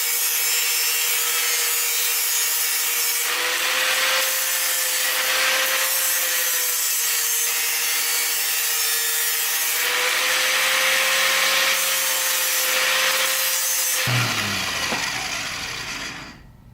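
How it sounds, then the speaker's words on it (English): Grinding down a weld on a go-kart shifter offset: a loud, close grinder whine with a steady pitched tone, pressing and easing in several bursts, then spinning down and stopping at the end. "And then I'll grind this all down and smooth at an angle so it doesn't cut up the shift boot."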